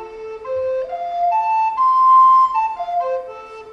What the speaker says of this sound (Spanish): Ese es el sonido de la flauta contralto